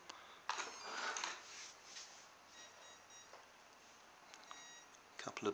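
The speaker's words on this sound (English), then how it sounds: "couple of beeps. We've got a slow beep now." Short electronic beeps sound from a programmable electronic speed controller after a battery is plugged in, a few quick tones followed by slower, spaced beeps, faint against a quiet background.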